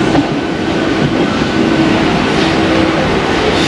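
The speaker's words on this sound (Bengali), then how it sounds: "আমাদের প্ল্যাটফর্মে ট্রেন ঢুকে গেল" A train rolls into a railway platform with a loud, continuous rumble and faint wheel squeal, close by and with no talk.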